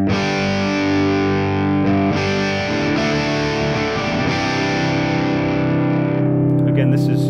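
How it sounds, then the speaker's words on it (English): Dean Colt semi-hollow body electric guitar with passive and piezo pickups, played slightly distorted through effects: sustained chords ring loud and steady, restruck every second or so, with a brief bright flurry near the end. "Running through the electronics with a slightly distorted sound"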